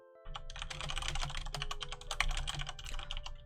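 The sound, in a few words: loud typing on computer keyboard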